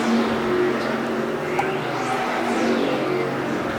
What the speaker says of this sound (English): As the field thunders back across the line and hits the stripe at lap number 44